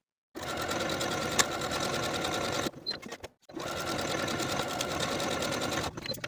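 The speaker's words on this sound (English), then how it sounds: "now I'm ready to sew my 5 buttonholes" A sewing machine stitches buttonholes on a 1960s tie collar top, running in two steady bursts of fast, even clatter close up, with a short pause between them.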